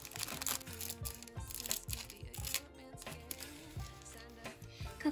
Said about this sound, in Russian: Достаю последнее. Вот такой пакетик тоже с облаками.